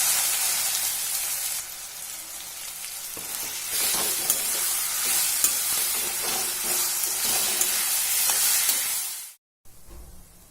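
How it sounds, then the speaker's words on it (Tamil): Raw mango pieces frying in hot oil with popped mustard seeds and chilies make a loud, bright, steady sizzle with soft stirring underneath, ending abruptly near the end. "கடுகு பொரிஞ்சிருச்சு. அதில் இந்த மாங்காயை போட்டுப்போம்."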